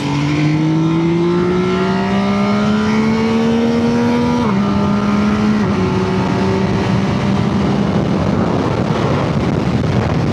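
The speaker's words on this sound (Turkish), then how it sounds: "Şöyle bir vites küçültelim Brake Shifter'la. Mesela üçüncü vites." MV Agusta Turismo Veloce motorcycle downshifted to third gear with a brake shifter on an open road, its engine note steadily rising in pitch with brief gear-change dips, heard close over strong wind rush.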